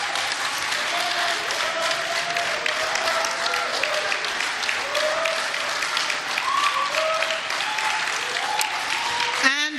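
An audience at the 2022 Osun gubernatorial debate applauds in a dense, sustained wash of clapping, with a voice talking over it.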